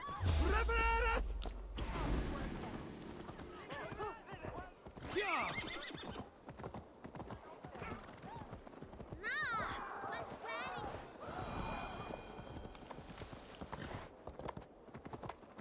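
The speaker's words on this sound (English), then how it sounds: "Our horse is here this time." A horse whinnies loudly, then hooves clip-clop in a steady trot in the video game Assassin's Creed Valhalla, while a person talks over them.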